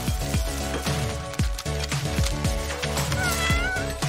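A cat meows repeatedly and plaintively over a steady rhythmic musical backing, several drawn-out cries in succession.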